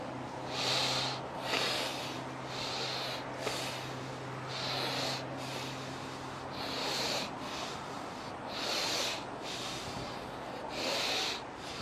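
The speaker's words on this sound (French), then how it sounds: "inspire quand tu vas en avant et expire vers l'arrière" A person breathes rhythmically in and out during a warm-up exercise before sea diving, with about eight loud, close, airy breaths evenly paced over a faint steady background hum.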